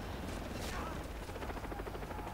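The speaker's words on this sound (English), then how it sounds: "Fuck, a helicopter." A helicopter in the video game Far Cry 3 drones steadily and loudly through the whole stretch, its broadband rotor roar filling the scene as a voice talks over it.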